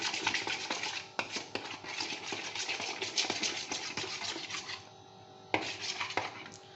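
A spoon scrapes and clinks against a bowl while salad is tossed with chaat masala, a busy run of scratchy stirring and light metallic knocks with brief pauses.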